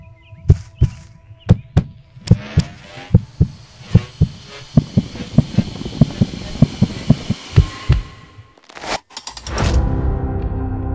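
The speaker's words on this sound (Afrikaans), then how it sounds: "Hoor jy die hartklop van solidariteit?" A steady heartbeat sound effect thumps in regular lub-dub pairs for about eight seconds, loud and close. It stops abruptly and gives way to a swelling, noisy wash of sound.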